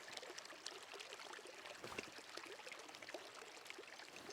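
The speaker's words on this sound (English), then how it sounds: "it's just like water flowing. It's almost like a waterfall." A creek flows near a rural property in Kuranda, Queensland, giving off a steady, faint rushing wash of water with no breaks and no voices.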